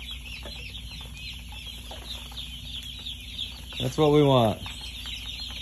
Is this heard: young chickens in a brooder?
yes